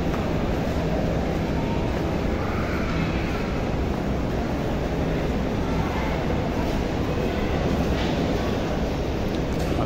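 A train at the main platform of Lahore railway station, a steady, dense rumble and roar that holds constant throughout, loud and close, with no clear voices over it.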